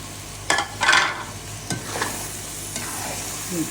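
A spoon stirs carrot halwa with chopped almonds in a pan, giving a few scraping strokes against a soft background sizzle, close and clear with no talk.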